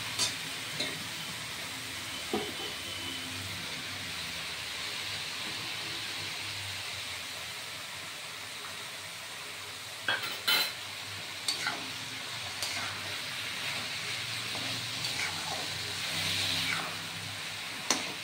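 Chopped banana flower being stirred and sautéed in a pan, a soft, continuous sizzle broken by periodic scraping and clinking of a spoon against the pan.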